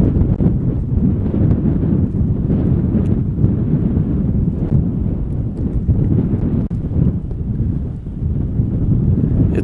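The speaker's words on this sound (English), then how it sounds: "It's really windy the way I'm facing" Strong wind on Mauna Kea, Hawaii, buffets the microphone in a steady, loud roar with gusting rumble throughout and no talking.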